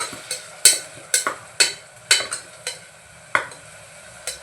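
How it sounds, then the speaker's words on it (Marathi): Onion paste fries in a pan after cumin for a Malvani chicken curry, a soft sizzle under a rapid series of about ten crisp spatula scrapes and knocks in an uneven rhythm, close and with no voices. "त्यामध्ये आपण जी कांद्याची पेस्ट करून घेतले ती घालून घेऊया"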